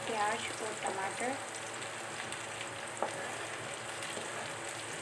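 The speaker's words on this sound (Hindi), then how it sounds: "साथ में हम इसमें डाल रहे हैं प्याज और टमाटर।" Onion and tomato fry in a pan for beans, giving a continuous moderate sizzle with a soft crackle and a single sharper tick partway through.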